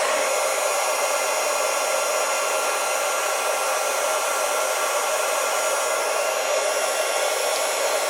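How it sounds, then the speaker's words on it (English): A heat gun sets embossing powder on Christmas banner pieces, blowing a steady, loud airy roar that holds unbroken for the whole stretch with no voices. "So now I'm going to use my heat gun to set the embossing powder on these."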